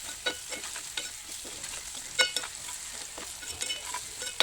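Onions fry with salt and turmeric, giving a soft, steady sizzle punctuated by repeated light scrapes and taps of a spoon stirring in the pan, with no voices.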